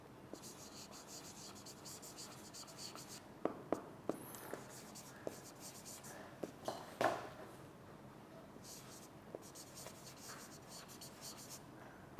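Chalk or marker scratches across a classroom board in short, soft bursts with small taps and pauses, quiet and close, with faint murmuring in the background.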